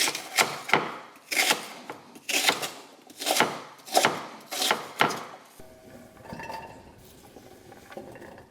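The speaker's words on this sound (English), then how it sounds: "I don't have to cut these perfectly because we are gonna cook these down." Vegetables for a sauce get chopped with a knife on a board, about eight firm, evenly spaced thuds close by, followed by softer clinks and rustling of kitchen prep.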